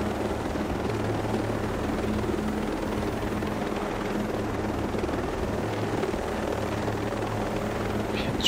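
A helicopter in the video game Ghost Recon Breakpoint flies with a steady low rotor thrum and engine drone, constant and moderately loud throughout, with no voices.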